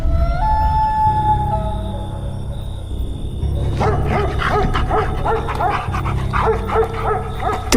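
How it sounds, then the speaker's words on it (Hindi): A dog in a bedroom, part of a cartoon horror story, barks and yips repeatedly in quick bursts over music, close and fairly loud, with some whimpering tones. "घर में एक कुत्ता था जो मुझे देखकर भौंकने लग गया।"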